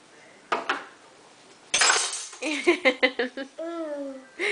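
Spoons and dishes being put away, with a few scattered clinks and clatters followed by a louder burst of clattering, mixed with people talking nearby.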